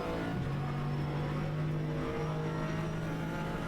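Race cars from a sim-racing endurance event, the 12 Hours of São Paulo, pass through with a steady, loud engine drone and shifting pitch, no voices present.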